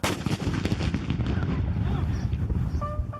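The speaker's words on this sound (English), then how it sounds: "they shoot off a cannon" A ceremonial cannon fired on a military post booms out, the heavy blast ringing and echoing across the open ground, followed by scattered sharper cracks near the end.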